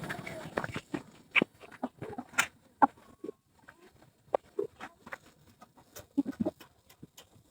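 Chickens on a backyard farm pecking and clucking close by, scattered soft clucks, scratches and patter in an irregular rhythm with quiet gaps.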